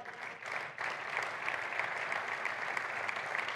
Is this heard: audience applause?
yes